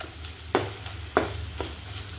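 Tomatoes frying in oil for masoor dal, with a low steady sizzle and a few sharp spoon-against-pan scrapes and taps spaced roughly half a second apart, close and fairly quiet, with no talking.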